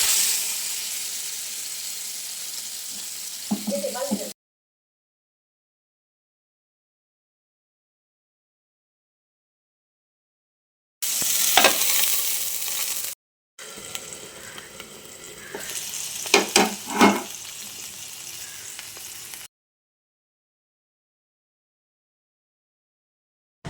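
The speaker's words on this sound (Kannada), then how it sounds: "ತೆಂಗಿನೆಣ್ಣೆ ಹಾಕಿ ಫ್ರೈ ಮಾಡುವ" Fish, a reef cod type, fries in coconut oil with a steady broadband sizzle in three separate bursts divided by silent gaps, and a few sharper crackles and spatters mark the final stretch.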